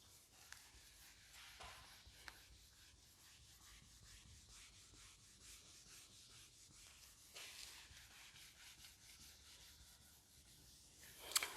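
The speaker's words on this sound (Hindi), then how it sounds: "अब बेटा इसको मैं रब कर रहा हूँ" Chalk writing being rubbed off a chalkboard during a Class 10 trigonometry maths lesson; a faint, steady, soft scratchy rubbing that continues throughout at low volume, alone.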